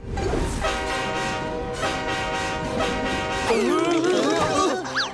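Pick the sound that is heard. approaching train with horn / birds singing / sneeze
approaching train with horn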